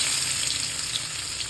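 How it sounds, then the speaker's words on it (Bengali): Chopped onion hitting hot oil in a pan for a fish curry, a steady bright sizzle and crackle, close and continuous with no talk. "গরম হয়ে আসলে এখন আমি দিয়ে দেবো পেঁয়াজ কুচি।"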